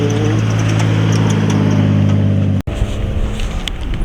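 Car engine droning loudly and steadily at a drifting motorsports event, with a low harmonic hum, a brief dropout near the end, then rougher revving noise and wind.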